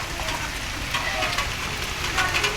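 Rain falls steadily as a dense, even hiss with soft patters and drips, continuous and fairly close, with no voices.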